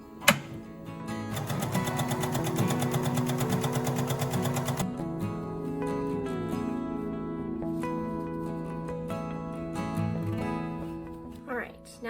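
Sewing machine running in a home sewing setup during dress-making, a steady dense mechanical whir for several seconds, then lighter clicks and short mechanical bursts as the needle-threading mechanism works.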